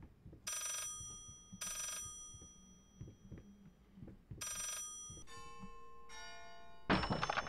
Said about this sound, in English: That's an expensive antique phone.